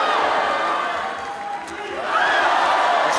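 Fans at an MMA fight scream and roar in a continuous wash of crowd noise that dips briefly, then surges back louder.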